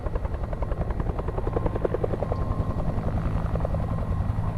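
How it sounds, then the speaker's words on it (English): A helicopter from the horror adventure game Alpha Polaris flies steadily and fairly close, its rotor thumping in a fast, even rhythm throughout with no talk over it. "Sounds like a chopper."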